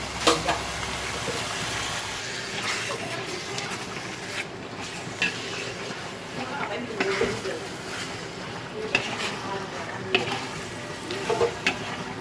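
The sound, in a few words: sautéing shallots and garlic for rendang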